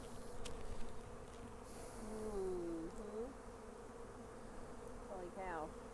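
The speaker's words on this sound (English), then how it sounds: "Yeah, bunch of bees." A dense, steady hum of many honey bees buzzing close by in a hive, with individual bees' pitches sweeping up and down as they fly past.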